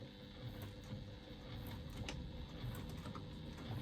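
A domestic sewing machine runs a few quick back stitches while a top zipper and lining panels are sewn in, giving a steady, close, fast mechanical chatter with no talking.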